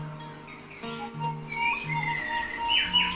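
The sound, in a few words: orange-headed thrush singing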